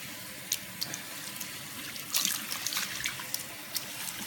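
Tap water runs and splashes over freshly rinsed hair in a salon basin after 40-volume bleaching, a steady close hiss with small drips and splash bursts, no voices.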